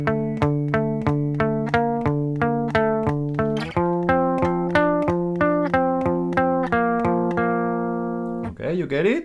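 Electric guitar plays a song from measure 5 onward, a close, steady picked riff of repeated ringing notes in a rolling 6/8 pulse, ending with a brief scrape of strings.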